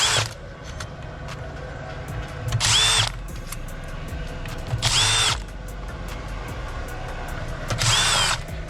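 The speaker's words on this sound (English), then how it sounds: "You're going to want to undo these screws." Three short whirring bursts from a powered driver removing screws while a Dodge Uconnect 8.4 touch screen is taken apart, with a rising whine in each and a steady hum between bursts.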